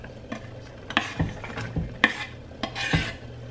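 Onions for a chicken and zucchini dinner drop into a hot pan and sizzle, with several sharp clatters of a utensil stirring them against the pan. The sounds are close and fairly quiet, with no speech.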